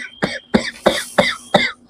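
A person coughs five times in a steady, evenly spaced series, each cough short, harsh and close.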